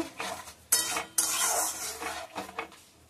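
Mustard and poppy seed paste being mixed with yogurt by hand, giving a run of scraping, stirring strokes against a bowl with a few sharper clinks, close up and with no talking.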